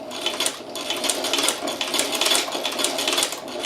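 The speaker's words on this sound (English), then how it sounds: "when you want to engage the motor, you just engage the motor" A motorized Chinese patcher sewing machine runs with a fast rhythmic clatter of needle strokes, close and steady over a few seconds, without speech.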